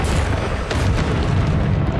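A Confringo fire spell bursting in the Hogwarts Legacy game, heard as a dense, loud rumbling boom that holds steady across the whole stretch with no voices over it.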